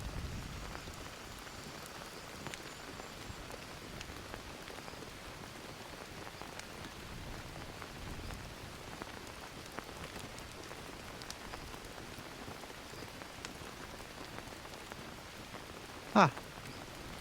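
Steady rain patters on a survival shelter overhead, a dense even hiss with scattered drips, and one sharp louder tap near the end.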